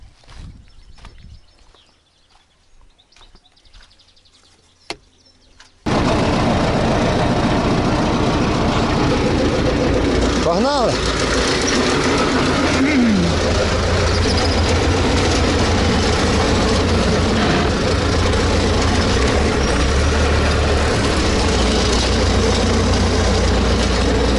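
A tractor pulling a filled field sprayer, out on farmland sown with soy, starts up and drives off. After a quiet opening, a loud, steady, rumbling engine drone comes in close and continues to the end.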